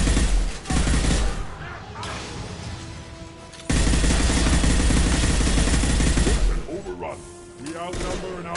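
Heavy gunfire in the Mass Effect 2 video game, loud sustained bursts of automatic fire with booming impacts, broken by brief pauses, with voices calling out over the shooting.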